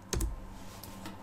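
A few quick keystrokes on a computer keyboard while entering a measurement in SketchUp, a close tap cluster at the start then lighter clicks.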